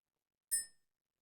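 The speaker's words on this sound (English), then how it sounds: "Let's ring the bell" A single small bell rings once in a quiet space to clear the energy, giving one bright ding that fades quickly into silence.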